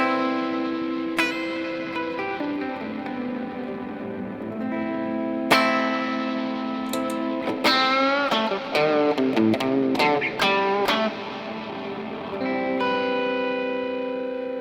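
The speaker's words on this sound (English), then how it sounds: "Here's with some reverb." Chase Bliss Lost and Found multi-effects pedal with reverb and heavy compression: sustained chords and bright plucked notes ringing into long reverberant washes, with a loud struck attack midway and a busier run of repeated notes.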